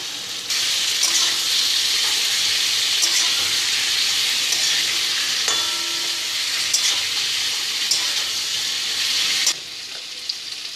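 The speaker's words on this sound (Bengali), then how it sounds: "এবারে সেদ্ধ করা আলুগুলোকে দিয়ে দিলাম, আগেই দিলাম, তাহলে তেলগুলো বেশ ভালো মতো মাখা মাখা হয়ে যাবে আলুর মধ্যে" Boiled potatoes fry in hot oil for aloor dam, giving a loud, steady sizzle that runs for about nine seconds and then suddenly drops. Occasional stirring scrapes sound over it, with no talking.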